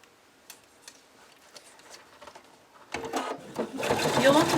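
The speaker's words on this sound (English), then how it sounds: "You'll want to sew all the way around the wing." Sewing machine stitching around the wing of a cockatiel plushie, starting with faint scattered ticks and clicks, then building into a louder, denser mechanical buzz of rapid stitching near the end.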